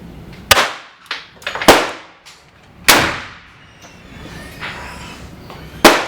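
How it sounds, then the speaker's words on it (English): A Thompson Center Hawken black powder percussion rifle goes off in several sharp, loud cracks at uneven intervals, each with a brief ringing decay, outdoors with no talking. "Percussion cap goes on, and now Cary's going to touch off"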